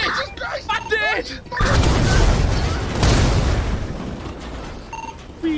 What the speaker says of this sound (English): Why did I hear an explosion?